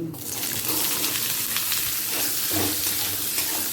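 Tempering spices fry in hot oil in a wok, a dense, continuous close-up sizzle with faint stirring scrapes throughout.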